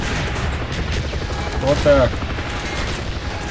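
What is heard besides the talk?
gunfire and bridge explosion in video game Call of Duty Black Ops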